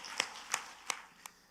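A church congregation claps four times in a slow, evenly spaced rhythm, each clap sharp but fairly faint in a quiet room.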